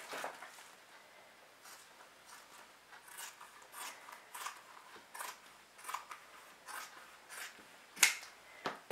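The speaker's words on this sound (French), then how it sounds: "Et je vais découper ce surplus." Scissors cutting surplus fabric off a sewing panel for a mini bowling bag, a run of quiet, repeated snips and rustling close by, with no talk.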